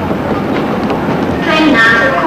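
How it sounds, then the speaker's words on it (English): A train pulls into a platform at York station, its rolling rumble and faint rail clatter steady throughout, with a brief squeal of brakes and a public address announcement over it. "Train now arriving at platform 14 is the 950 for Grantham and King's Cross."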